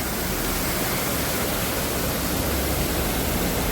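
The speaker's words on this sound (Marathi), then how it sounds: "हे धरण आहे आणि पाणी आता धरणाच्या वरून जातं आहे बघा" Water pours over the Nivali Bavnadi dam in a dense, continuous roar of rushing flow, loud and unbroken throughout with no voices.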